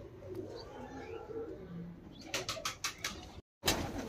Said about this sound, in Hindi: ये लो जी भाई, पांच कबूतर ये हैं